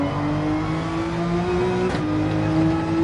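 A Porsche 911 in Gran Turismo 7 holds a loud, steady engine drone with a brief dip and shift mid-way, then carries on at high revs, with no talk over it.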